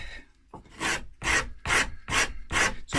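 Rhythmic rasping strokes of a hand tool shaping the wood of an already-painted guitar body, working across the grain to form a belly carve and forearm slope; six steady, close strokes follow a brief quiet start.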